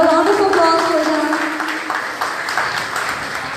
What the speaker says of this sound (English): Have a round of applause for them